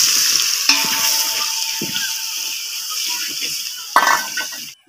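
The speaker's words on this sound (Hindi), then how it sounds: "अब मसाला डालेंगे जो मैंने बचाया था उसमें से भरने से। इसको अच्छी तरह से भून लेंगे।" Spice masala, set aside from the stuffing for stuffed ridge gourd, fries in a pan with a bright continuous sizzle. A metal spoon scrapes and clinks against the pan in short bursts.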